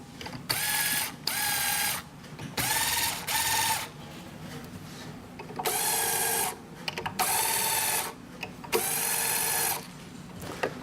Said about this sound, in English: Hold my strings, I'm going to loosen them slowly.